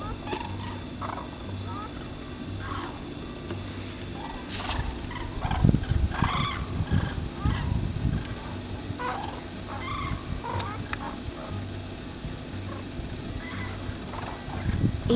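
Common cranes, also called Eurasian cranes, give repeated rattling calls across a wetland. The calls come in scattered bursts of moderate loudness over a steady background, and a voice seems to speak at times.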